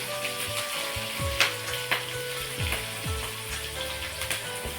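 Finely chopped onions fry in hot oil for a green chilli chicken curry, giving a steady close sizzle with soft crackles and occasional stirring scrapes, no voices over it.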